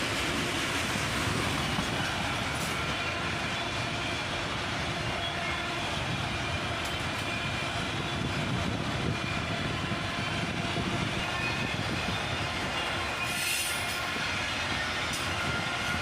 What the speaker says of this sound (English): A pair of AC-44 CWs lead this northbound auto-rack train